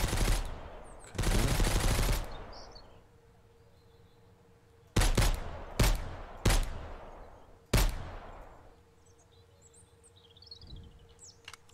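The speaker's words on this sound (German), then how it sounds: "die letzten 9 Schuss auch noch reinknallen hier" Gunfire from a firearm in the survival game Mist Survival at a bandit camp, a loud burst of rapid shots followed by several single sharp reports with ringing decay, with faint birdsong in the background.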